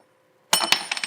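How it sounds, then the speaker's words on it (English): An Allen key flings off a roller skate during boot replacement and clatters down after a quiet moment, a sharp bright clink followed by a few quick rattling bounces. "Oh, one thing about Allen keys, sometimes they fling off."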